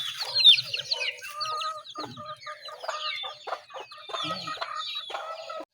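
Several chickens cluck and chatter close by in a farmyard, a busy stream of overlapping calls with a few low grunts from livestock underneath; no one speaks.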